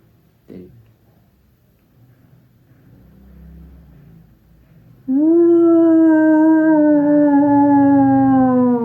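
After a quiet start with faint rustling, a voice breaks into a loud, wavering, drawn-out howl, imitating an eerie witch.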